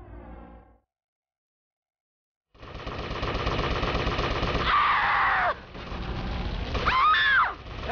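Automatic gunfire in GTA Vice City Stories on PS2, loud sustained rapid bursts after a brief silence, with intermittent harsh whooshing and screeching effects over the shooting.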